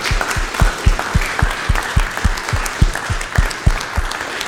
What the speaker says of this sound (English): please join me in a big round of applause for Professor Braumoeller